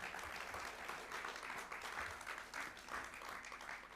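A festival audience applauds the organising team at an opening keynote session, a fairly faint, steady wash of many clapping hands heard from a distance throughout.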